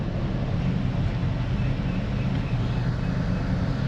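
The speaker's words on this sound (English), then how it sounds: "I don't really hear the engine changing speed." A car engine idles steadily in a repair shop, a continuous low rumble with no noticeable change in speed and no talk, running evenly throughout.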